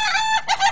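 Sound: laughing chicken crowing

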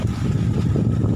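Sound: strong wind

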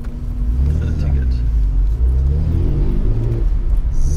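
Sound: Opel Speedster car engine at the Nürburgring

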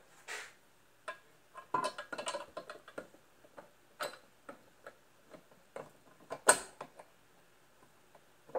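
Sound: Grizzly Bear Crawl mobile base mechanism pushed up and down

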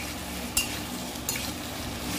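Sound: potatoes frying and being stirred in a pan

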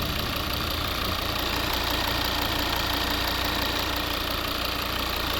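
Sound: Volvo V70 2.0 D3 diesel engine idling

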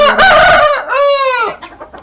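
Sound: rooster crowing and chickens clucking

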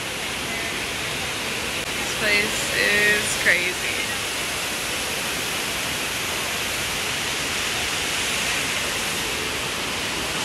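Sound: huge indoor waterfall at Gaylord Opryland Hotel, Nashville

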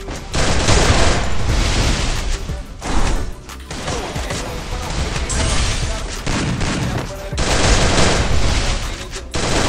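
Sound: gunfire and headshots in Garena Free Fire video game

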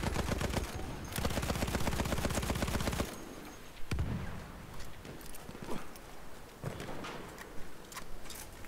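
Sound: sniper gunfire in video game Battlefield 1

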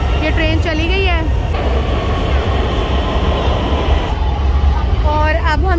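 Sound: Lahore Orange Line metro train departing station

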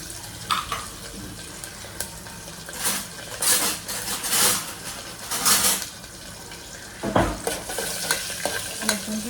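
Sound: garlic and asafoetida frying in oil

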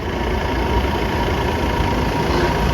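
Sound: Mahindra jeep engine driving through floodwater

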